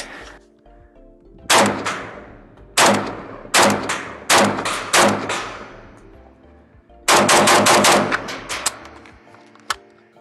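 A Beryl rifle fed from a 5.56/.223 magazine fires outdoors. Several loud separate shots ring out with a reverberant tail, then a longer rapid burst follows and a last lone shot ends it. No voices are heard.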